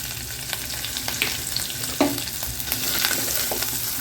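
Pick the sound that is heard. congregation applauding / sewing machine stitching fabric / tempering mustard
tempering mustard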